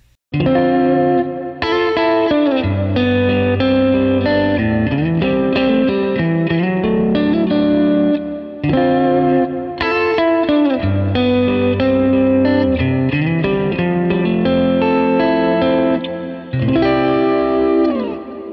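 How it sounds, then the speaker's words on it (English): Electric guitar through compressor, chorus, EP3 Echoplex echo and plate reverb, with shimmering chorus, repeating echoes and a lush reverb tail, strummed chords and melodic lines ringing out continuously with no talking. "in the loop, I've got the chorus that you heard before, the EP3 Echoplex, and I've also added a plate reverb"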